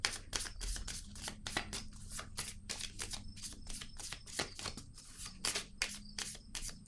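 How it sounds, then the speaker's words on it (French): Playing cards are handled and set down on a table at close range, a quick series of crisp papery flicks and taps with brief pauses between them and no voices. "je vais déposer une autre carte ici"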